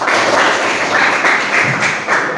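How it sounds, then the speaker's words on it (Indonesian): A classroom of students clapping together in a steady, loud, continuous patter of hand claps, with no voices over it. "Oke, tepuk tangan untuk ini."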